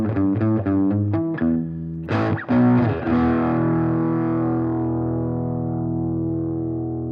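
Loud overdriven electric guitar through a Supro '64 Super tube amp at full volume, in the low input, chugs a few quick chords, then strikes a big chord that rings out and slowly fades, gritty and saturated.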